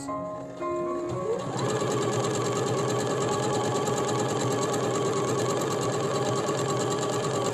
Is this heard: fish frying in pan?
no